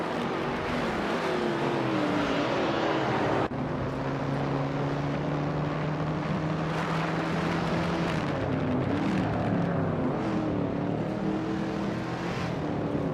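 Race cars including a 1971 Ford Mustang Mach-1 roaring around a circuit, continuous loud engine drone with shifting pitch as cars pass, no voices.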